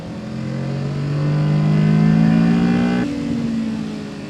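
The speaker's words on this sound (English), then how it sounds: "That's a Porsche Turbo, by the way, cabriolet." A Porsche Turbo cabriolet revs its engine on a racetrack, a loud rising mid-pitched roar that climbs steadily for about three seconds, then drops as the revs fall, steady and close throughout.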